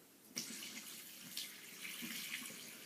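Bleach, soap and water poured from a bucket makes a steady broadband rush of splashing liquid, starting abruptly and running continuously with small surges, fairly close and without any talk.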